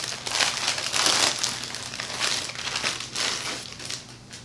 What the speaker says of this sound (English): Let me get out of the wrapping so we can look at it a little closer.